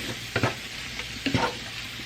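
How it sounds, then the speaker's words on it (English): Minced garlic stirred in a hot pan while frying for smothered cube steak, with soft continuous sizzling and two distinct scraping stirs of a utensil against the pan, close and moderately quiet. "Stir that in, because you know garlic burns fast."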